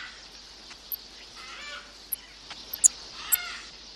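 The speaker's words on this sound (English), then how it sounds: "Here in Dakar, birds of all kinds, not only parrots, are held for export." Captive birds of many kinds, parrots among them, call from a crowded holding facility at an export dealer in Dakar, giving scattered sharp squawks and chirps over a faint, busy background hum.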